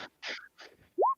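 A single quick sneeze bursts out nearby during a tabletop role-playing session, preceded by short breathy intakes and ending in a brief rising squeak.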